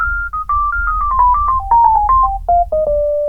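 A flute-like keyboard lead plays the Boondocks ending theme melody, a quick run of articulated single notes stepping downward over a low sustained bass, ending on a held note.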